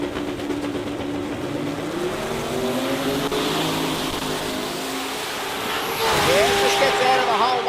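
Sports compact drag cars launching at the 2024 Garrett Sydney Jamboree, engines revving and rising in pitch as they pull away, with a louder, closer surge near the end over a commentator's voice.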